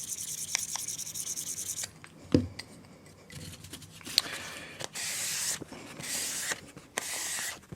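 Stainless Dovo Best Class straight razor rubbed across a honing stone, close rhythmic gritty strokes in bursts with short pauses and a couple of sharp clicks, no talking.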